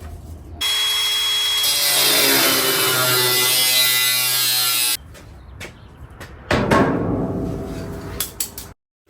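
A metal pickup truck bed being cut with a loud, steady power-tool whine that runs unbroken for about four seconds, followed by a shorter, rougher burst of cutting and scraping that trails off.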